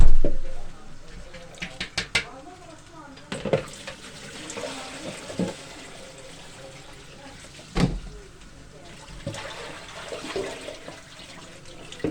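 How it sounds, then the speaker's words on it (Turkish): Rice is rinsed in water for pilaf, with uneven splashes and sloshing, water swirling against a pot, and a few sharp clinks spaced across a long stretch of running, gurgling water. "Şöyle pirincimi yıkayayım hemen."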